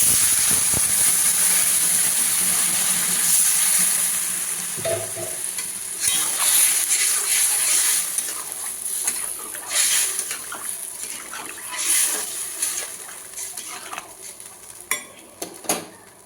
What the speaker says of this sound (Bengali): ভালো করে মশলাটা কষানো হয়ে গেছে পরিমাণ মতো জল দেবো